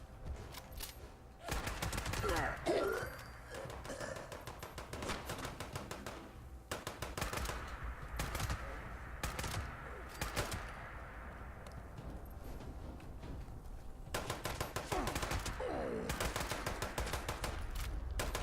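Rapid automatic gunfire in a first-person shooter video game, with long rattling bursts separated by brief pauses and a close, loud steady rhythm against the game's background.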